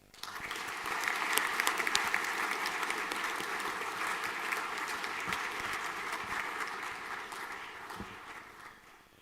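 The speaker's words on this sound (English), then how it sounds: "Round of applause." Applause from an audience at a school final assembly fills the space with dense, steady clapping throughout, moderately distant, with no voices over it.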